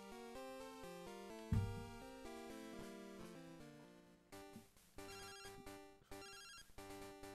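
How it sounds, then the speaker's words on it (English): Electronic phone ringtone from Pokémon Crystal, a chiptune melody of repeated bright beeping notes in steady rhythm, clear and alone. "The phone is ringing."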